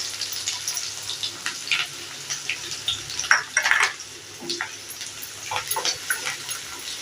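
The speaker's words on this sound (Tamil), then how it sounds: "இப்போ கடுகு வெடிச்சிட்ருக்கு" Mustard seeds splutter and pop in hot oil in a pan for a garlic curry, with sharp irregular crackles over a steady low sizzle, close and fairly loud, with no talk.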